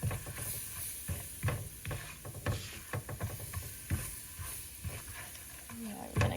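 Flour, butter and beef bits stirred together in a frying pan into a roux, a sizzling, scraping hiss with repeated stirring strokes at close range, no talk over it.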